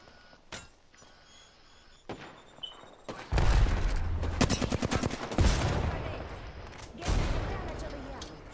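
Video game firefight with bursts of rapid gunfire and sharp shot cracks, loud and close, mixed with thuds, alongside game voice lines and players talking.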